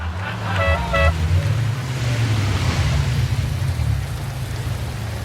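Two short horn toots from a red Ferrari sound in quick succession over steady rain and a low idling engine rumble.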